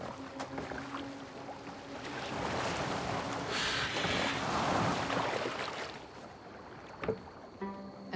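A boat moving across open water in Assassin's Creed Valhalla, with a steady rush of water and wind that swells in the middle and then eases, with a few faint knocks near the end.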